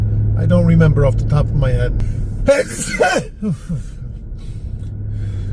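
A sharp, burst-like sneeze cuts through steady conversation over a low engine hum inside a 2022 Chevy Suburban Z71, followed by a brief sniffly breath before talking resumes.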